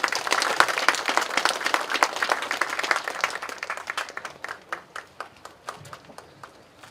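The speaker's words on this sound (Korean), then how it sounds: "여러분 박수로 맞아주시기 바랍니다" An indoor audience claps to welcome a theatre performance at a memorial ceremony. The applause starts dense and lively, then thins out to a few scattered, fading claps.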